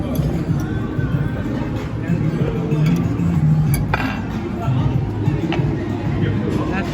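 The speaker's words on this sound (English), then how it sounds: "So we are at the Palms Casino at this buffet that they have here" Dishes and cutlery clink amid a busy buffet restaurant at the Palms Casino, with steady crowd babble and a person talking over the light, scattered clatter.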